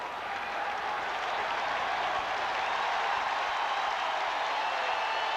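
A large football stadium crowd at a Raiders versus Packers game in Green Bay cheers and applauds, a steady, dense wash of clapping and roar that holds loud throughout, with no talk over it.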